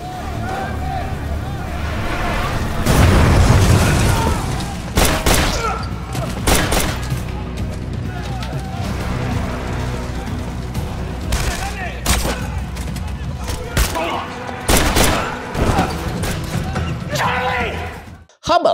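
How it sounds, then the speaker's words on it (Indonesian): Gunfire in a film shootout, loud repeated shots and bursts over shouting and a narrator's voice, with a heavy boom near the start and sharp cracks scattered throughout. "Dan selanjutnya, baku tembak pun tak bisa dihindari lagi."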